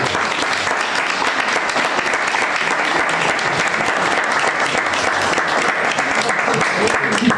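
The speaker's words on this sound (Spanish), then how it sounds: "¿Te parece bien que le mandemos un aplauso, que se recoja?" An audience at a poetry evening claps steadily and loudly, a thick, even stretch of applause filling the room without a break.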